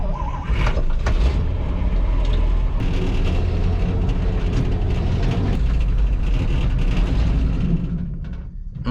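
An abandoned 1959 Chevrolet truck with a Buick nailhead engine rolls to a stop, its loud, low engine rumble and road noise steady from close range before easing off near the end, with no talk.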